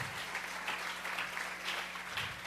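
Church congregation clapping hands together in worship, a steady, moderately distant patter of applause with a low hum beneath and no talking.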